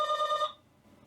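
A doorbell gives one short, bright electronic ring lasting about half a second, then stops and leaves quiet room noise.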